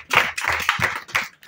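A congregation claps in praise of the Lord Jesus, a quick run of about six sharp, fairly close hand claps in a steady rhythm, with no voices.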